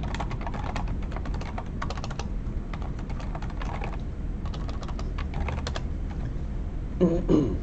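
Rapid clattering keystrokes on a computer keyboard come in quick bursts with short pauses, close and clear, ending with a brief louder clunk.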